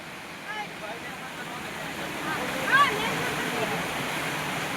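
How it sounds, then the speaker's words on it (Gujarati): Water from an overflowing dam rushes in a continuous broad roar during the rainy season. Voices call out and chatter over the steady flow. "dam overflow"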